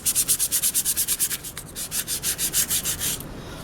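Sandpaper rubs back and forth across a handmade junk journal, fast rhythmic scratchy strokes close up, about two dozen in quick succession with a brief pause midway, no voices.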